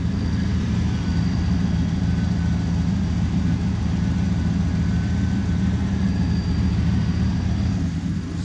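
A small block Chevy V8 in a 1988 Pontiac Firebird idles after a water pump install, a steady deep low rumble with constant loudness throughout, close by and with no voices.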